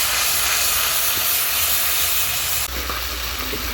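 Grated ginger and chili paste fry in a pan with a loud, continuous hissing sizzle that drops a little in intensity partway through, heard up close with no speech.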